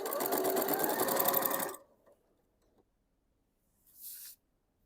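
A sewing machine stitches the binding corners of a quilted mug rug in one quick, close burst of under two seconds, then falls silent before a brief soft rustle.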